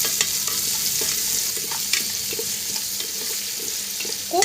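Onions with salt cooking over a medium flame in a frying pan, stirred with a utensil, producing a steady hissing sizzle dotted with light scraping taps and a louder clatter at the end, close and without speech.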